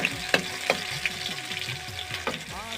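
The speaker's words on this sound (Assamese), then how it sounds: "মই এয়া তেল অলপ দি ল'লোঁ এতিয়া। লগতে এয়া মই পিঁয়াজ অলপো দি লৈছোঁ।" Onions frying in a little oil in a pan, a close, steady crackling sizzle with sharp clicks and stirring scrapes, no voices.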